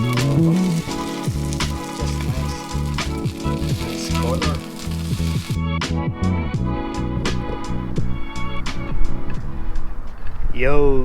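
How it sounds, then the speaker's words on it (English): Food frying in margarine in a home kitchen pan, a steady sizzle running under background music and a talking voice, with scattered crackles and a brief clatter near the end. "I fry it with the margarine"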